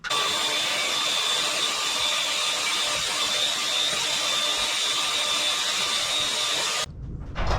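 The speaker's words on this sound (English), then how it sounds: "So I can cut the angle about like that on the bandsaw." A bandsaw cuts an angle through a metal intake tube for a custom ATC200X intake, a steady loud whine with grinding texture running for about seven seconds before stopping abruptly.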